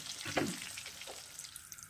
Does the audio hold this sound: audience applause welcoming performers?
no